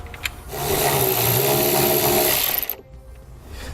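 Power tool driving a T30 Torx bit to pull a bolt while fitting a Curt trailer hitch on a 2018 Mercedes-Benz GLC, a steady, loud whirring run of about two seconds that stops abruptly, with faint handling noise around it.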